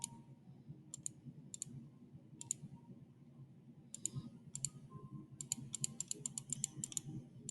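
A computer mouse clicks repeatedly during play of the Tyto game, sharp close clicks scattered in pairs and then quick runs, over a low steady hum.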